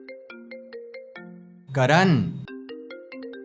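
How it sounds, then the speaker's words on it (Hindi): Mobile phone ringtone chiming in a repeating melodic pattern of bright electronic tones, interrupted midway by a burst of loud speech calling out, then resuming. "फोन बज रहा है तुम्हारा"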